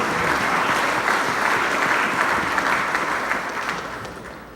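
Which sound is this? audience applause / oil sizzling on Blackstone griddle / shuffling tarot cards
audience applause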